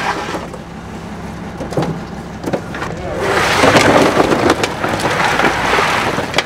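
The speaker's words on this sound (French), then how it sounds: "Malgré la tempête, Sean aura lutté jusqu'au bout pour quelques dollars de plus" A storm lashes a Pacific beach during a commercial razor clam dig, with wind and rain making a dense, roaring wash that grows louder and rougher halfway through.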